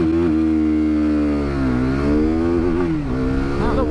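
A KTM RC 390 sports bike engine screams loud and close, its pitch holding high and wavering as it bounces off the rev limiter, dipping briefly before rising again.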